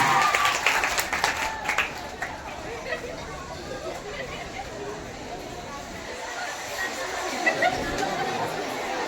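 An audience of school pupils at a quiz competition breaks into applause for a correct answer, clapping steadily throughout with crowd chatter and voices mixed in.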